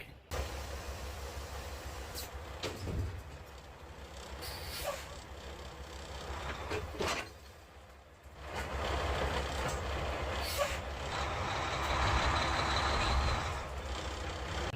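A Mack semi truck runs steadily with a low diesel rumble, close and continuous, with occasional air hiss and clanks over the engine drone and no talking.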